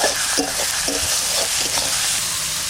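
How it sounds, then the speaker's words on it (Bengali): Duck curry masala with turmeric, salt, black pepper and green chillies being stirred in a frying pan: a close, steady sizzle broken by repeated scraping strokes, with no voices. "একটু নাড়া দেবো ভালো করে"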